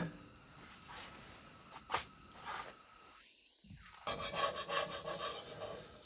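A metal spatula scrapes across a nitrided carbon steel bushcraft skillet with a folding handle, giving faint, raspy rubbing strokes at close range, quiet and without talk.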